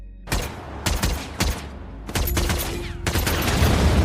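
Several sharp, loud gunshot bursts ring out in quick succession, followed by a sustained roaring blast as a car explodes, all close and intense.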